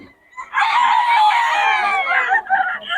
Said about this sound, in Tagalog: Mga manok ni Boss Jun. Ito mga taga Pampanga.